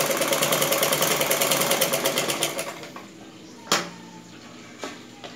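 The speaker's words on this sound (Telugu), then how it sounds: "మనం మార్కింగ్ చేసిన విధంగా స్టిచ్ చేసుకుంటూ వెళ్ళాలి" A sewing machine stitches a blouse front along marked lines, running in a fast, even mechanical rhythm for about two and a half seconds, then stopping, followed by a couple of sharp clicks and handling sounds.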